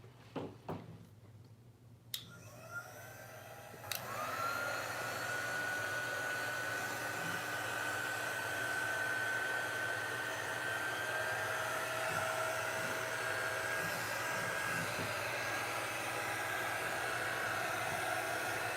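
A hair dryer starts up after a few clicks and blows with a steady, loud whooshing hum that continues without a break while drying paint on a stenciled pillowcase.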